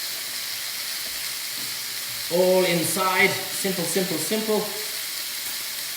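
Steak sizzles and fries in a hot pan for a steak sandwich, a steady close hiss running throughout while a voice briefly speaks over it.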